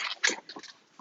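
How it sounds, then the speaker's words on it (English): Dogs make short close whiny yelps and snuffling sounds indoors, several brief bursts in quick succession. "I definitely have some super annoying dogs"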